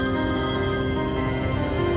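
A telephone rings steadily and loudly for the whole stretch, a continuous electronic ringtone with no talk over it, set in a tense drama scene.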